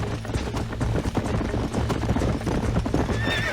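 Horses in the Red Dead Redemption video game, steady hooves clip-clopping throughout with repeated neighs and whinnies over a busy outdoor game soundscape, close and loud.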